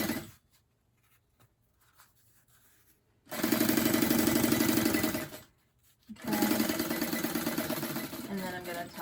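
Sewing machine basting a purse seam shut, two steady loud whirring runs separated by a short pause, following a quiet stretch of faint handling.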